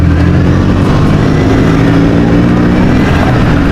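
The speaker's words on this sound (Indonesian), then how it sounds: "ini jelek banget ini motor lagi kan, jelek banget jalannya anjir" A motorcycle with a broken clutch cable rides along a rough, bumpy road, its engine roaring loud and close with constant rumbling wind noise throughout.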